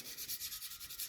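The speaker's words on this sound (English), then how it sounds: "I don't want to bore you with the sanding." Close, rhythmic hand sanding of bodywork on a Suzuki Boulevard motorcycle, strokes rasping back and forth in quick succession, a hissy scraping with no voices.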